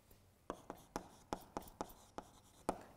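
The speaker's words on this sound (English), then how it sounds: "So, write it here." Pen or chalk strokes on a board or paper during a biology lesson come as about nine sharp, close scratchy taps at an uneven pace. They are faint and heard without talking.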